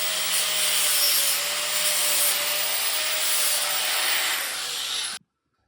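A metal weld bracket for a tube chassis being smoothed and reshaped with an abrasive tool gives a steady, loud, close grinding-sanding rasp for about five seconds, then stops abruptly.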